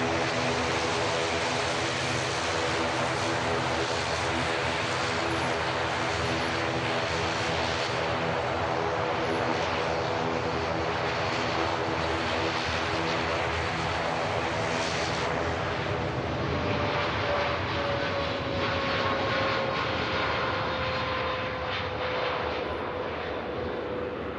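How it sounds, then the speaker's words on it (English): A TUI Boeing 787 Dreamliner begins its takeoff roll at Manchester Airport, a loud steady jet roar with broadband rumble that holds throughout and shifts slightly in tone near the end as the engines spool and the aircraft accelerates. "Dreamliner just beginning the roll"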